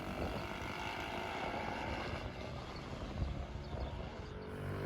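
A custom West Coast chopper with a 125cc three-speed semi-automatic engine passes along a road, heard at a distance as a faint, rising and fading engine drone over broad background noise.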